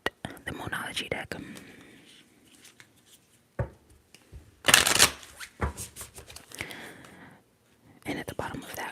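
Tarot cards from a Moonology deck are shuffled in short crisp bursts, with a loud riffle near the middle, between soft whispered speech close to the microphone.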